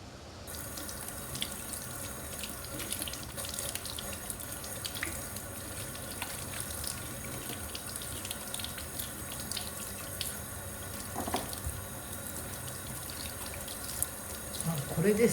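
Tap water runs steadily into a sink while flat peaches are rinsed under it, a continuous close splashing stream with occasional brief drips and handling noises, no talking.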